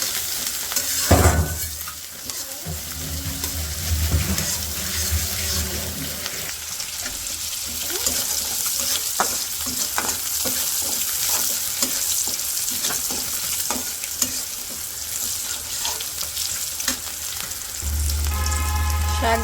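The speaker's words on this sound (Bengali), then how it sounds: "এখন হালকা ভাজিয়ে নিই।" Chopped green chillies, garlic and onion frying in oil in a village kitchen, a loud continuous sizzle up close with repeated scraping of a spatula stirring the pan.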